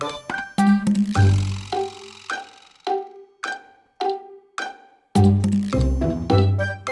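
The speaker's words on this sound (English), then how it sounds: "Church bells are ringing." Synthesized church bells in a video game chime in a series of separate strikes, each ringing out and decaying, with denser overlapping peals at the start and end.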